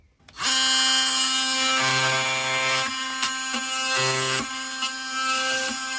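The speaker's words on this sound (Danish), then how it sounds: "Så fik jeg skåret træpropperne af" An oscillating multi-tool saw trims wooden screw plugs flush with a steady, loud buzzing whine. The pitch dips briefly twice as the blade bites into the wood, then the tool keeps running evenly.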